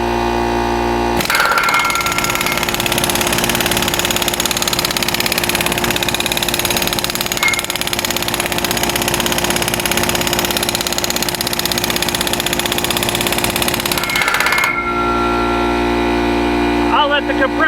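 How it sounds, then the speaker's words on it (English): An air compressor's engine runs loud and steady at close range for most of the stretch while auger tie-down anchors are installed, a constant droning hum that cuts off abruptly near the end, leaving quieter background. "I'll let the compressor recharge and finish that one off"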